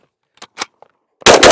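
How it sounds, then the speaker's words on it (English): A Steyr AUG rifle magazine is pushed into its well: a few faint, soft clicks, then one loud, sharp, close metallic clack near the end. "Mag in."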